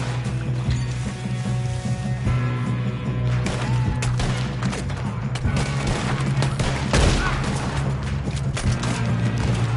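A gunfight breaks out in Red Dead Redemption II, with rapid volleys of gunshots cracking repeatedly over a steady background hum, while voices speak now and then.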